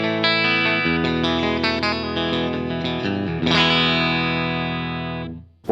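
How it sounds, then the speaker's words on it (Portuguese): Electric guitar played through a Tone Inc. Clear Solid State Preamp into a Strymon Iridium cabinet simulation, loud driven chords and notes with chorus-like shimmer and reverb, a few quick strums then a ringing chord fading out. "O que eu vou fazer agora é ligar um pré-amplificador externo da Tone Inc., o Clear Solid State Preamp, utilizando o Iridium apenas para simular a minha caixa."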